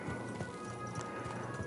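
Rhythmic hoof clip-clops from a horse in the video game Kingdom Come Deliverance 2 trot steadily and close, over a dense, loud bed of ambient game sound.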